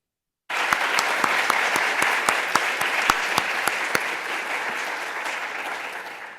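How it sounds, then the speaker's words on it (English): An audience at a conference talk breaks into applause after a moment of silence. Many hands clap in a dense, sustained burst that holds steady and then slowly tapers off. "I don't know if you can hear it, but people applauded."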